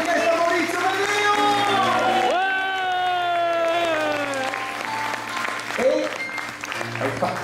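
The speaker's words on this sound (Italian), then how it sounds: "Un applauso in nome dei musicisti dell'orchestra Maurizio Maglio!" Applause from a theatre audience for an orchestra, a broad wash of crowd clapping running beneath a prominent amplified voice throughout.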